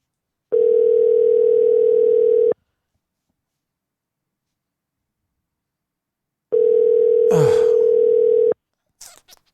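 Phone line ringback, two long steady electronic tones about two seconds each with a silent gap between them, followed by a brief rustle and a faint snatch of sound at the end.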